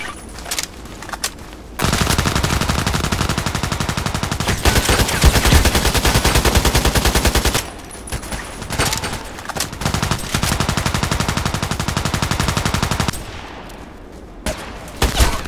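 AKMS assault rifle fire in the shooter game Contract Wars: loud, sustained automatic bursts lasting several seconds each, broken by short pauses, with a final burst trailing off into a few scattered shots.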